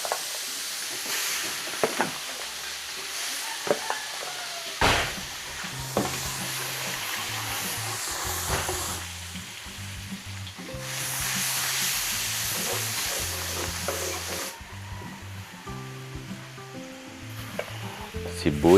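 Garlic sautés in hot oil with a crackling sizzle, punctuated by repeated spatula stirs and scrapes against the pan, close and continuous.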